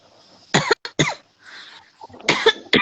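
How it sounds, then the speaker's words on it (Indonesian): A person coughs several times close up, in two clusters of sharp, harsh bursts with a brief pause between. "Batuk."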